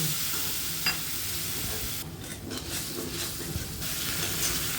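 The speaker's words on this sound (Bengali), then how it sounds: "কাঁচামরিচ বাটা, সামান্য হলুদ, স্বাদ মতো লবণ, অল্প জল দিয়ে আমি কষিয়ে নেব" Green chili paste with turmeric, salt and a little water, along with cumin-coriander paste, sizzles and is stirred in a pan, giving a steady close frying hiss with scraping stir sounds throughout and no talking.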